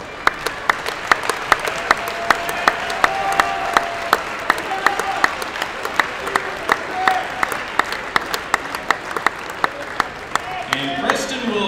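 A gym crowd at a high school varsity boys basketball game applauds the Pontiac Unified Basketball Team, steady clapping carrying through the whole stretch with a murmur of voices and an announcer talking over it.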